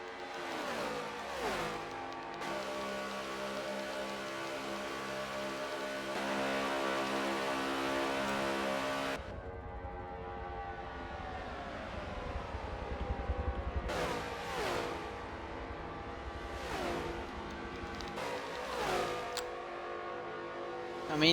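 NASCAR stock car engines race at Daytona in Forza 7, a dense layered roar of high-revving engines with whooshing cars sweeping past in repeated drafting passes, loud and continuous.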